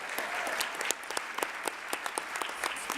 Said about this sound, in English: Please give them all another round of applause.